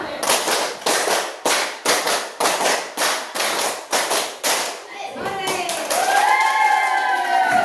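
A classroom of students claps a counted rhythm three times over, a dozen loud, evenly spaced group claps, followed by children's voices and chatter as the clapping stops.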